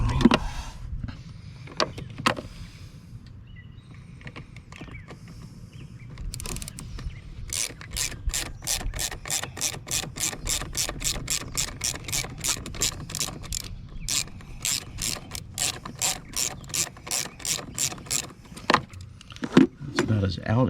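A screw being backed out near the camshaft position sensor on a Jeep JK engine, making a quick, steady series of sharp ratcheting clicks close up, after some earlier handling noises.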